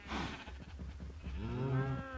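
Cows mooing in Minecraft during wheat-fed breeding on a farm, a long, low, drawn-out moo rising into a harmonic bellow, close and loud, with no talk over it.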